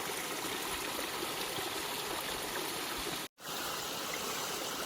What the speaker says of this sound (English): I love the sound of this running water.